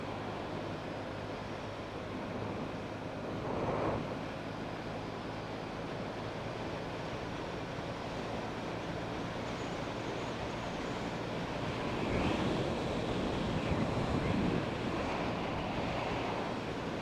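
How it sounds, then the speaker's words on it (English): Strong wind buffets the microphone outdoors during a motorcycle ride on a Honda Innova 125, a steady roaring rush with louder gusts near the start and toward the end. "It's quite windy today."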